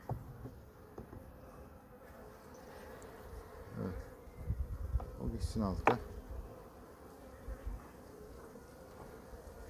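Bees buzz in a low, continuous drone around a hive, with a few louder passes close by and brief quiet talk over it.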